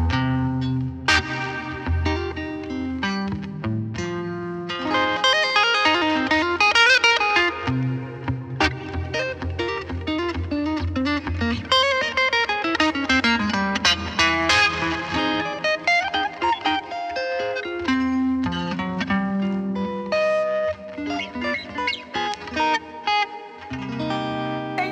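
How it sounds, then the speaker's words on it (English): Electric guitar playing continuously with a pulsing tremolo and a washy reverb tail from an EarthQuaker Devices Dispatch Master, no delay, melodic lines ringing out loud and close. "This pairs nicely with tremolo and reverb."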